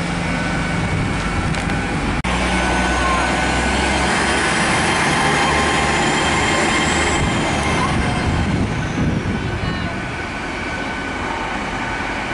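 A diesel train rumbles past at Lincoln with a steady heavy roar, rail noise and a faint high squeal of wheels, continuous and close for the whole stretch.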